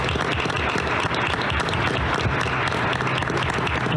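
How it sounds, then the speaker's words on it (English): An audience at a school board meeting applauds, a dense, steady round of clapping from many hands that holds at an even level throughout, with no one speaking. "How about a nice round of applause for Kelsey Krusha?"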